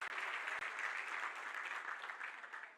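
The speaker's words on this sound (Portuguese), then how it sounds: "Dê uma salva de palmas ao Senhor." Audience applause fills a church conference hall, a dense, steady wash of many hands clapping together at even strength, close and loud throughout with no voices over it.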